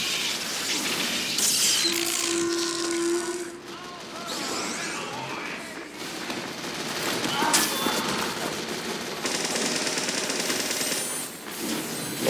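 Rocket launcher shots and surrounding gunfire in Team Fortress 2 on Dustbowl, loud bursts and explosions layered with mechanical clatter, with someone talking over the action.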